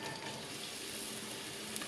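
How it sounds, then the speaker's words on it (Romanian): Chopped onion sizzles in hot oil in a roomy pot, giving a steady, bright frying crackle that fills the whole moment up close, with no voices over it. "Când s-a încins, adăugăm ceapa."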